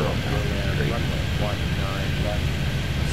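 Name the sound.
airplane going around in Airport Madness 3D video game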